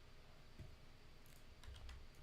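Keys clatter on a computer keyboard in a few quick bursts, faint and close, over a low steady background hum.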